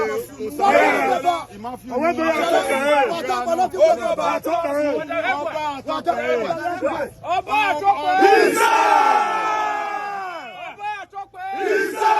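A large crowd at the Oba of Benin palace shouts and chants loudly and continuously, with overlapping voices and surges of cheering that swell near the end.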